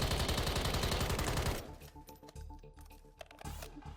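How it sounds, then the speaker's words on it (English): Rapid automatic gunfire from a heavy-recoil gun in Warzone 3, a dense loud burst of shots for about a second and a half that cuts off abruptly, leaving quieter in-game clatter and faint tones. "This gun literally has a shitload of recoil."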